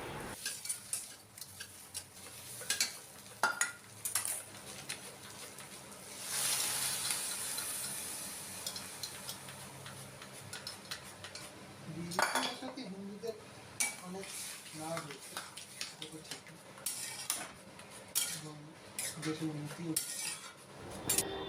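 Peas and potatoes being stirred in a pan, with a spoon scraping and clinking against the metal in irregular bursts over a steady background hiss, some louder clatters near the middle.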